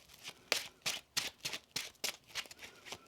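Tarot cards being shuffled in quick, rhythmic riffles, about nine crisp bursts close up at a steady pace, quiet and alone with no talk.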